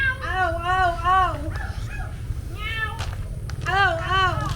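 People at a bakery team-building game voicing dog barks and cat meows, a quick run of loud, close, pitch-swooping mews with yelps between, human voices imitating the animals.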